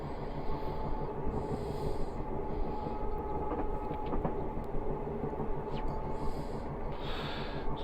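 A Class 423 4-VEP electric train coasts on the Tonbridge to Hastings line in Train Simulator Classic, a continuous low rumbling roll with a steady hum and occasional faint high-pitched squeals.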